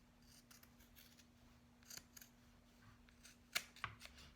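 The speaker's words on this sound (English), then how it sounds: "So I'm just trimming these edges to about 1/8 of an inch." Scissors trimming the fabric edges of a two-layer face mask near the stitch line, a few soft, faint snips and rustles close by in a quiet room, with no talking.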